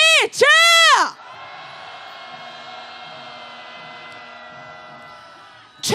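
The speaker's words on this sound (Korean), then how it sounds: "함성 시작!" At a street protest march, a close voice gives a quick shout and then a crowd roars in a sustained cheer and yell that holds steady for several seconds before another shout breaks in.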